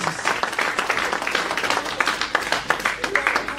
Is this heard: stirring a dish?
no